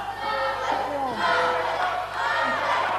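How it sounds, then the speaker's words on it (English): Wrestling crowd at an independent pro wrestling show calling out and chanting in a sustained, loud roar of mixed voices, with rising and falling shouts filling the hall throughout. "Crowd are calling out for Phil."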